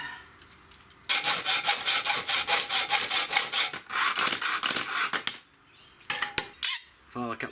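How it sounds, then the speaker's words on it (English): A hand saw cuts an aluminium stone guard strip in half lengthwise for a caravan build, with rapid rhythmic back-and-forth strokes for several seconds, a brief pause, then a few more short strokes close by. "We need to cut this aluminium"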